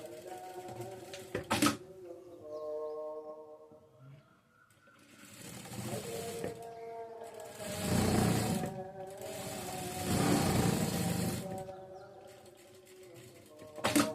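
A sewing machine stitches the side seams of a child's top, its motor running in several bursts of a few seconds each, with a person talking between and over them.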